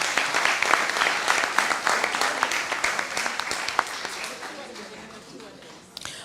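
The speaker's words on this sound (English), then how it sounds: "Let's give them another round of applause." Audience applause for quiz participants at a Rotaract Club of Grenada and credit union event, dense clapping from a crowd that gradually thins and fades out, with a few sharper individual claps standing out and a last late clap near the end.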